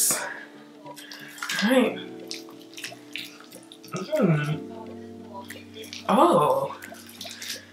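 Running water splashes in bursts while a Fenty Skin face cleanser is lathered by hand at a sink, three distinct washes spaced a couple of seconds apart, with someone talking briefly over it.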